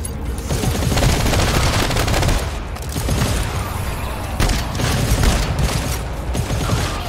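Heavy gunfire in the video game GTFO, loud, continuous rapid bursts from several weapons overlapping, with brief dips between volleys.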